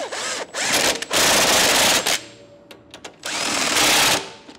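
An impact-style power tool tightens the nuts on a Stealth Hitches hidden rack receiver on a 2019 BMW, firing in loud, close, repeated bursts of about a second each with short pauses between.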